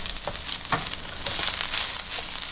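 A spatula stirs Vietnamese fried rice with egg in a hot pan, giving a close, steady sizzle with repeated scraping strokes. No one speaks.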